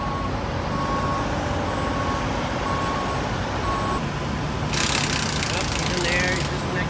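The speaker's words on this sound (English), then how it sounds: "So our tow truck is here." A tow truck arrives, its diesel engine idling in a steady low drone while faint rhythmic reversing beeps sound in the background, with a voice talking over it.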